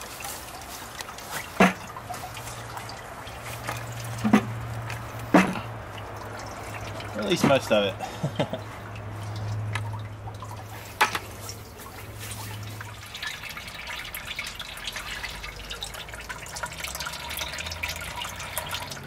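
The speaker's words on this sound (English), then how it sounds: "Now the next step is to let this drain so we can reuse the same water." Water drains and drips from a press so it can be reused, with intermittent drips and trickles close by beneath someone talking throughout.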